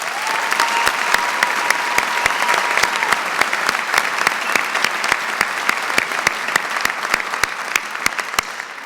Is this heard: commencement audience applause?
yes